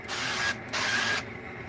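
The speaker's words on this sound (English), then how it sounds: "Today I'm using avocado spray." An avocado oil spray can hisses onto a hot Blackstone griddle in two close bursts, each about half a second long, with a short gap between them, over quiet background.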